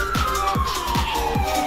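A police car siren in a video game wails steadily in a continuous falling tone, with regular low thumps beneath it and no voices.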